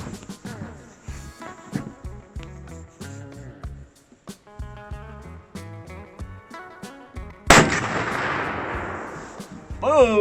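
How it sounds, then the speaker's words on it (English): A single sharp gunshot from a CVA Paramount HTR muzzleloader rifle, fired at a can 115 yards away, cracks loudly and fades in a short echoing decay, heard over a plucked musical backing. "I'm gonna shoot at that Coke can that's 115 yards away."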